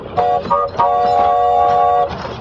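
A locomotive train passes, with a steady mid-range rumble and sustained tonal horn-like tones that swell and hold for about two seconds before easing off. No one speaks.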